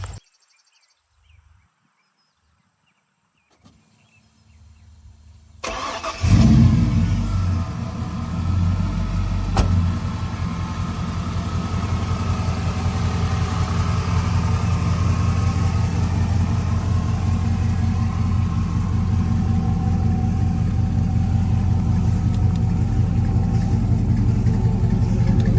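1977 Chevrolet K20 square body truck starting after a few quiet seconds, its engine catching with a burst and settling into a steady, loud idle that runs on alone up close.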